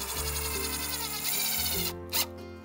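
A power drill drives 3-inch deck screws into the mitered wooden corners of a picture-frame style deck frame, giving a loud whirring motor whine that rises and falls in pitch, then briefly stops and restarts, close up.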